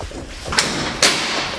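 Two sharp thuds and bangs as a stuck door is forced open, each jolt loud and near, separated by about half a second.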